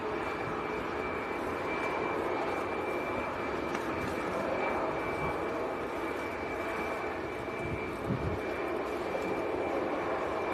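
An all-white TUI Boeing 737 MAX 8 airliner at Manchester Airport gives a steady, distant jet roar that holds evenly throughout, blended with windy rumble and no talk.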